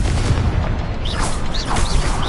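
A Confringo explosion spell goes off in Hogwarts Legacy as a dense rumbling boom with bursting crackle and whooshing magical effects, loud and continuous, with no talk over it.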